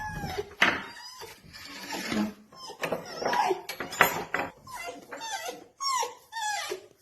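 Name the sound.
dog whimpering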